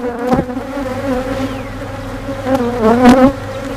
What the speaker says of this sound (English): the front entrance definitely doesn't indicate there's this many bees in there